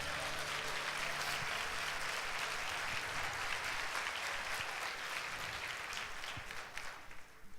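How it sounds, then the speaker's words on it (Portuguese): A church congregation breaks into sustained applause during a Sunday service, a dense wash of many hands clapping that stays steady throughout and fades slightly near the end. "Dá um aplauso ao Senhor"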